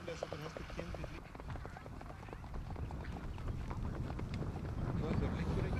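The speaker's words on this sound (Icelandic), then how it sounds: "Og þá kemur rauðblesóttur hestur" A chestnut horse with a blaze trots at an Icelandic horse show, its hoofbeats forming a quick rhythmic clatter under steady wind noise and an announcer speaking over the arena sound.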